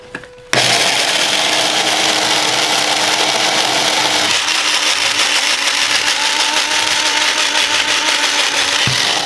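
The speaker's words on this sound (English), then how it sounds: "Start grinding." An electric spice grinder set to fine, grinding allspice and other spices for puerco pibil, snaps on and runs as a loud, steady whirring buzz close by, with a slight pitch change midway.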